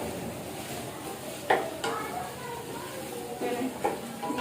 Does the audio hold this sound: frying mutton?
yes